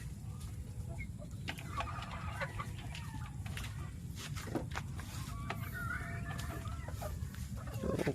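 Pet chickens in their cages cluck steadily, repeated close calls over a constant low farmyard hum, with no talking.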